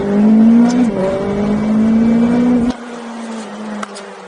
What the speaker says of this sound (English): This one, the turbocharger is on the exhaust system, and it really changes the way that that you hear it and the involvement of that.